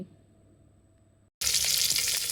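Cumin and mustard seeds drop into hot oil: after a quiet, near-silent stretch, a sudden loud, dense sizzle bursts in and holds steady to the end, with no talking.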